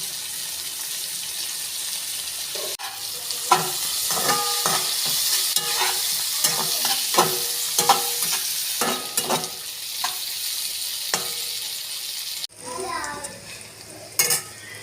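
Vegetables for egg veg noodles fry in a hot pan with constant sizzling and rhythmic scraping stirs of a spatula, followed by a brief pause and a sharper sizzle as something is added.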